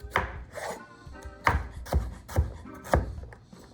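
A knife chops radish into small cubes on a board for a chicken salad, giving a quick series of close, crisp thuds in an uneven rhythm, each with a short scraping rasp.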